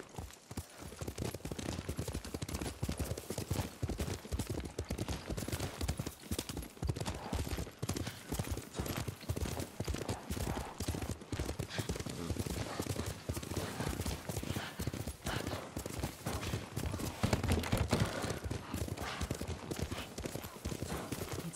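Horse hooves clip-clop steadily during a ride in Ghost of Tsushima, a continuous close rhythmic trotting beat over a rough outdoor bed with a few louder thuds and faint voices at times.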